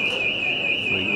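A smoke detector alarm shrills in a lecture hall as one steady, piercing high-pitched tone that runs unbroken and loud, with faint murmuring voices underneath.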